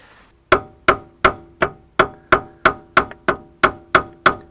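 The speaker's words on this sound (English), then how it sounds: "Thanks to a lump hammer, I've now managed to get the ball joint apart" A lump hammer strikes a car ball joint on a SsangYong during suspension spring work, giving about a dozen loud, ringing metallic blows at a steady, brisk rhythm, close up and with no talking.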